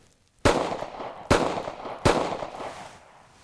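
Three sharp gunshots from a SCCY CPX-2 pistol crack out close by, spaced under a second apart, and each one leaves a rolling echo that fades slowly.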